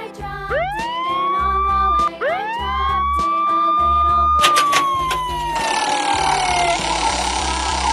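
A police car siren wails in rising sweeps that settle into a sustained tone and then fade downward, loud and near, with a rumbling engine and street noise underneath.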